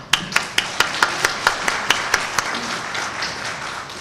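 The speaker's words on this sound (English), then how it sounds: "Ladies and gentlemen, let's applaud that." Audience applause at a ceremony where Pakistan's Finance Minister Muhammad Aurangzeb is speaking, opening with a run of sharp, evenly spaced claps over a background of scattered clapping, then thinning into quieter, looser applause.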